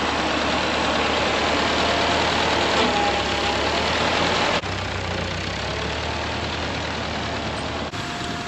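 A tractor engine idles steadily close by, a loud continuous mechanical rumble with no speech over it.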